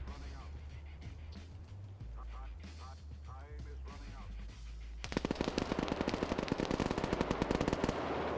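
Gunfire in an Arma video game combat match: someone talks at first, then a loud, rapid burst of automatic fire starts midway and continues steadily to the end.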